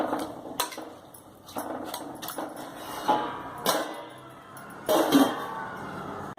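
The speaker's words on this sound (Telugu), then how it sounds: "ఇప్పుడు మూత పెట్టుకుందాం" Metal clatter of a lid set onto a cooking pot of gongura vegetable curry, several close clanks and knocks with a sharper rattle near the end, no talking.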